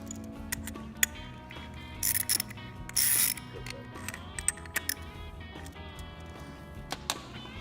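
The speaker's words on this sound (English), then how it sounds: "screw the face seal into the air chamber cap and tighten it to 62 inch-pounds" A face seal is screwed into an air chamber cap and torqued to 62 inch-pounds, producing rapid ratcheting clicks and mechanical ticks close by, with two short bursts of harsher clatter midway and no talking.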